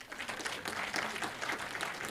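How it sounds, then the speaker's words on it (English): Brief audience applause for Senator Susan Kihika at a Senate induction retreat, a faint, steady patter of many hands clapping for a couple of seconds. "can you clap for her?"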